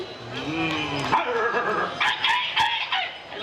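A voice imitates dogs barking and fighting during a village temple festival drama, giving yelps, growls and whimpering barks in quick succession, loud and close.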